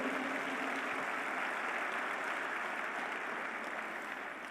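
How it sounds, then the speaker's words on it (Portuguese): A church congregation claps together at a worship service, a steady dense patter of many hands held at an even level for the whole span, with no talking over it. "Dá um aplauso aí ao Senhor."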